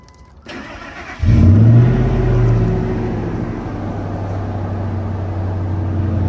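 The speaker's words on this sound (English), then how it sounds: "Nice little cold start." 2005 Toyota Highlander cold start: a brief crank, then the engine catches with a loud rev that flares and settles into a steady, fast idle, close up with no talking.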